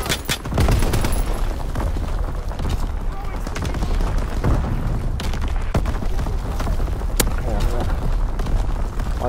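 Artillery barrage from a Call of Duty WWII match, a steady dense roar of booms and blasts with sharp cracks at intervals, loud and continuous, with game radio voices heard over it.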